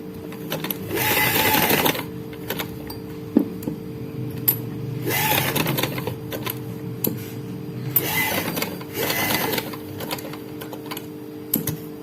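A sewing machine stitches fabric beside the cut edges in several runs of rapid, close mechanical whirring, separated by short pauses and clicks as the cloth is adjusted.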